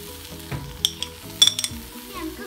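Chopped tomato goes into onions cooking in a pan for chana chaat, setting off a loud, close sizzle with a few sharp spatters and light utensil clinks, without any talk.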